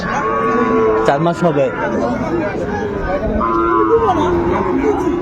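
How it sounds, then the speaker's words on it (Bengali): A four-month-old Sahiwal bull calf moos in drawn-out, wavering calls, loud and close at a cattle sale, while people talk over it nearby. "শাহিওয়ালের ষাঁড় বাচ্চা বেশ সুন্দর।"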